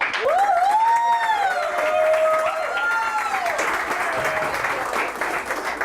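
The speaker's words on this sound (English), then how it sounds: "give me a round of applause for Chris Drucquer" Audience applause breaks out for a business speaker, a steady wash of clapping from a crowd with a few whoops and voices rising above it, holding strong then easing slightly toward the end.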